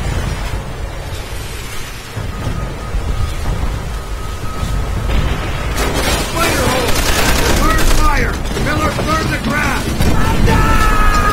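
Machine gun fire rattles from a heavily fortified bunker in Call of Duty: World at War, with sustained bursts and booming blasts running continuously while voices shout over the battle.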